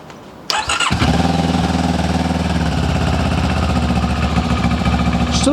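A Benelli 702X motorcycle engine starts with a sharp catch, then settles into a steady, loud, deep rumbling idle close by, running continuously with a slight rise near the end.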